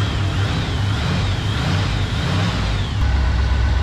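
A 1976 GMC truck engine idles steadily and loudly up close with a deep, even rumble, a faint whine riding over it and no talk.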